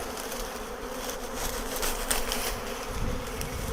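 A dense, steady buzzing of many bees hums continuously, close and fairly loud, with no voices over it.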